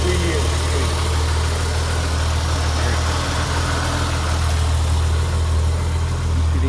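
A 1946 Chevrolet pickup truck engine idling close by, a smooth, steady low rumble throughout, with people talking over it.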